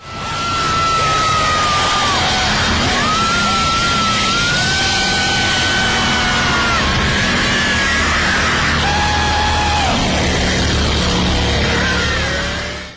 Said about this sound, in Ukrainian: Усі вокальні партії, а точніше воплі та крики, були записані пацієнтами психлікарні